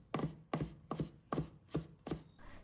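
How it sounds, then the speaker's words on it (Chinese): A kitchen knife thumps ginger on a chopping board: six evenly spaced, solid knocks about every half second, close and fairly quiet, with no talking. "顺手拿起一块生姜，重重一拍，砰的一声，生姜碎开，再快速切成姜末"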